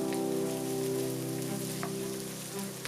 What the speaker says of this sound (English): Saute that all together until it's fragrant.